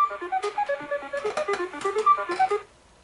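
Game show board shuffle effect on Tic-Tac-Dough, a rapid run of bright electronic beeps and chimes in an irregular clattering rhythm for about two and a half seconds, then stopping into near silence.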